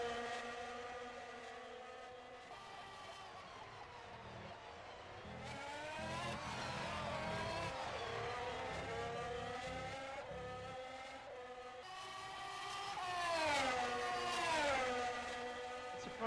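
Formula 1 cars race at Imola in a racing sim video game, with several high-revving engines whining and shifting pitch as they pass and accelerate, a continuous layered roar without talk.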